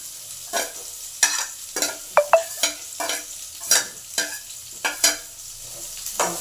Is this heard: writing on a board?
no